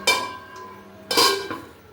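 A metal lid goes onto a cooking pot of rohu fish curry with ridged gourd and potato, two close clanks about a second apart with a short ringing tail.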